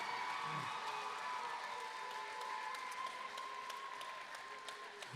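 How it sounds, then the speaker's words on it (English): Applause from a school talent show audience fills the room with dense, sustained clapping that slowly thins, joined by a faint held tone, with no talk. "One more round of applause for Melody Sanchez"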